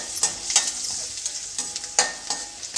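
Cumin seeds, about one and a half tablespoons, frying in ghee with steady bright sizzling and crackle, punctuated by several louder stirring scrapes, close and alone without talk.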